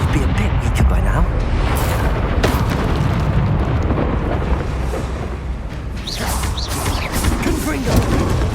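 Bombarda explosion spell from Hogwarts Legacy during a combat trial, loud booming blasts and rumbling debris that fill the scene continuously, with sharp bursts and a voice shouting over the din.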